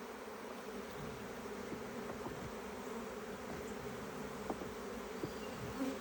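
Honey bees swarm around an opened Langstroth hive during a winter inspection, a dense steady buzzing that fills the air at moderate closeness, with occasional louder passes near the listener.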